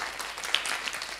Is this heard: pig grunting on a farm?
no